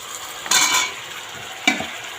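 Chicken pieces half-fried in a pan sizzle quietly while being stirred, with two sharp scraping strokes of a spoon against the pan over a soft background sizzle.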